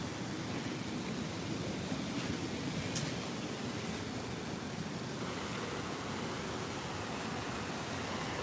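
Waterfall at Disney's Wilderness Lodge, a steady broad rushing roar of falling water heard close and loud, unbroken throughout with faint clinks in the background.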